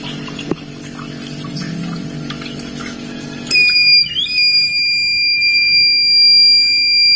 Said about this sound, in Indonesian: itu menandakan bahwa pengisian telah selesai buzzer jika buzzer berbunyi